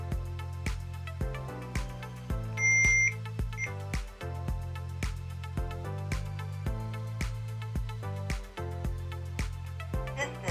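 Hikvision AX Pro alarm system sounds a regular series of short electronic beeps while arming, evenly spaced and close, with a brief higher-pitched tone partway through.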